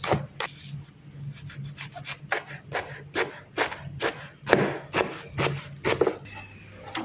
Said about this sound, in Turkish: mercimek çorbası için soğanlarımızı doğramaya başlıyoruz